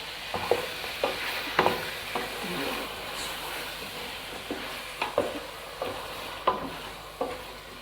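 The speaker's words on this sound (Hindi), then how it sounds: "हमने लहसुन डाल के 5 मिनट इसकी बुनाई की है" Ginger and garlic stirred and sizzling in a pan, with a steady frying hiss and repeated scraping strokes of a spoon at an irregular rhythm.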